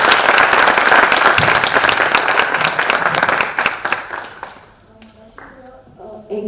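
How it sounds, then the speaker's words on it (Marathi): An audience at a poetry reading event bursts into loud, dense applause that fades out after about four seconds, followed by a person speaking. "आणि या सगळ्यांसाठी एकदा जोरदार टाळ्या होत्या"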